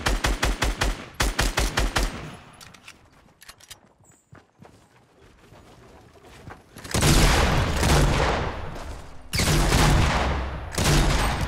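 Shotgun fire in Fortnite, a quick run of sharp, loud blasts at the start, then quieter scattered sounds, and later two long, dense bursts of heavy fire.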